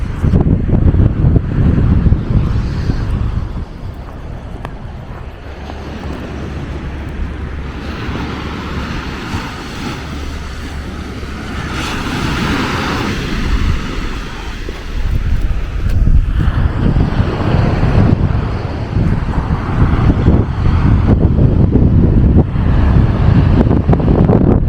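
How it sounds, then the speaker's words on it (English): Small, gentle waves wash onto Boscombe beach under steady, heavy wind buffeting the microphone, a continuous low rumble with soft surges of surf rising and falling over the length of the clip. "Tiny waves, nice and still today."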